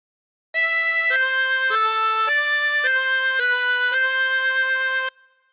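A 24-hole tremolo harmonica plays a phrase of God Defend New Zealand in a string of sustained, wavering notes, clear and close, with no talking.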